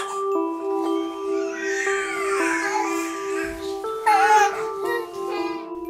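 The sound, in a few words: young children babbling and crying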